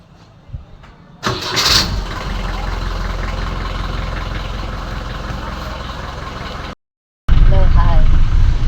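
A car engine cranks and catches, then settles into a loud, steady idle close by. After a brief dropout it comes back at full level. Faint voices are audible before it starts.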